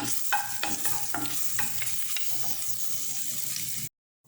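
Garlic frying in a few spoonfuls of hot oil for a Haitian chicken dish gives a busy close sizzle with stirring scrapes, then cuts off abruptly near the end.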